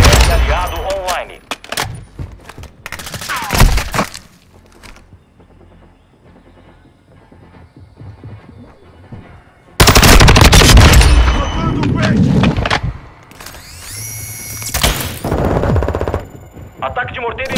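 Rapid automatic gunfire in Call of Duty: Modern Warfare II multiplayer on PS5, dense loud bursts and explosions across the clip with a brief quieter stretch in the middle, mixed with in-game voice callouts.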